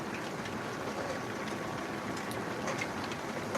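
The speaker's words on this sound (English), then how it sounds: "It's just really heavy rain right now." Heavy rain pours down steadily during a livestream at night, a dense, continuous hiss of drops on surfaces that stays loud and unbroken throughout, with no voices over it.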